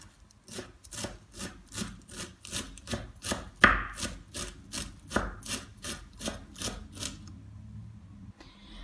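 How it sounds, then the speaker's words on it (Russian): Parsley and cilantro being finely chopped with a knife on a board for Korean-style green tomatoes, a fast, steady run of crisp close taps that stops near the end. "И мелко нарезаем зелень петрушки и кинзы."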